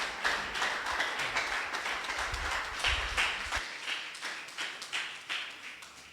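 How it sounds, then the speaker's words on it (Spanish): Applause from a church congregation during a worship service, made of distinct rhythmic claps with periodic accents and low thumps in the first half, then lighter even clapping. "démosle un aplauso al Señor,"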